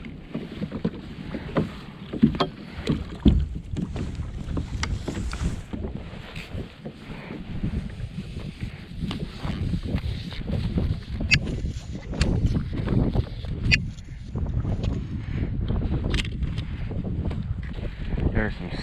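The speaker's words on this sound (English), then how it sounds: "There's some serious wind today." Strong wind gusting across a microphone outdoors on a fishing boat, a steady roar with rumbling buffets that swell and ease throughout, loud and close with no other sounds standing out.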